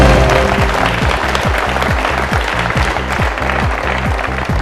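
Audience applause for a correct answer on a quiz show rolls loud and continuous beneath a repeating rhythmic musical sting with pulsing low beats, the clapping staying dense for the full few seconds.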